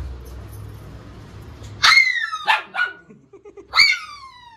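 A dog barks several times, sharp, close yips and barks spaced over a few seconds after a quieter rumbling start.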